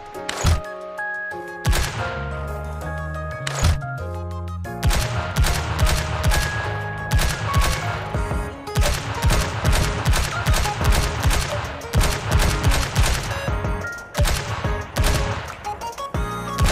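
Gunfire from NIKKE video game characters: bursts of rapid automatic shots and single cracks in dense, loud volleys, with brief pauses between sequences over roughly seventeen seconds.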